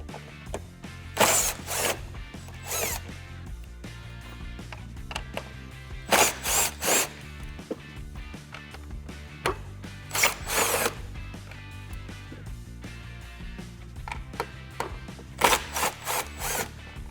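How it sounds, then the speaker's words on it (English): Power tool with a 7mm socket backing out the four fog light bolts on a Jeep Wrangler JL's aluminum front bumper, in several short whirring bursts separated by pauses, with no talk. "now we're going to take these 4 bolts out using a 7mm socket"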